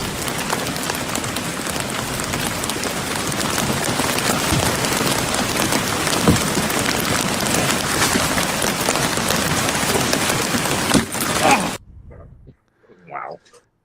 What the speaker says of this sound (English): That is hail coming in.